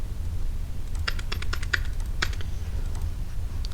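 Keys being pressed on a computer keyboard during a lesson on keyboard functions, sharp clicky taps in quick irregular bursts over a steady low hum, close and alone with no talk.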